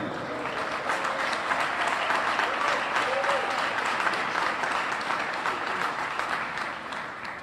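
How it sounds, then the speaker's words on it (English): Audience applause welcomes Kyle Larson, driver of the number 5 Hendrick Motorsports Chevrolet, at a NASCAR Cup Series announcement at World Wide Technology Raceway near St. Louis: steady, dense clapping that holds loud throughout and eases slightly at the end. "Please welcome the driver of the number 5 Chevrolet for Hendrick Motorsports, Kyle Larson."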